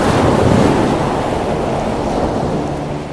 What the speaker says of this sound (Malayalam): വല്ലാത്തൊരു ചുഴലിക്കാറ്റും തിരമാലയും ശക്തമായി ഇളകി വരുന്നുണ്ടല്ലോ.